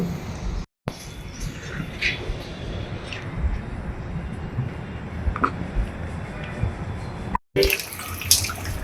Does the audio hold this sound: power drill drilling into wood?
no